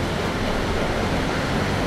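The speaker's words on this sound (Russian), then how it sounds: "Здесь невероятно большие волны. И они поднимаются." Large ocean waves rising and breaking produce a dense, continuous roar of surf, loud and close with no pauses and no voices.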